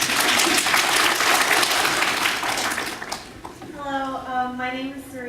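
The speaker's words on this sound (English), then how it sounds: "Shall we give her a big round of applause?" A live audience applauds at a university admissions event, loud close clapping for about three seconds before fading out as a voice begins speaking.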